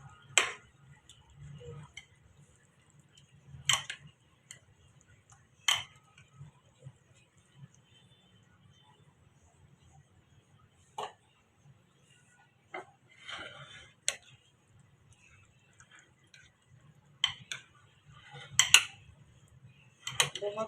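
A spoon mixes dahi phulkiyan in a bowl, giving sparse, sharp clinks and scrapes of metal against dish, separated by quiet gaps, with a low, soft stirring rumble between them.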